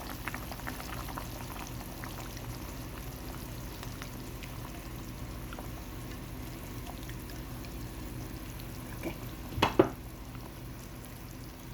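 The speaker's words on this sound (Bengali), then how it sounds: "কফি স্কিনে পেঁয়াজ দিয়ে দিয়েছি এখন দিয়ে দিব টমেটো পিউরি" Tomato puree is added to onions cooking in a pan for beef karahi, giving a steady low bubbling sizzle with a couple of louder splashy clatters near the end.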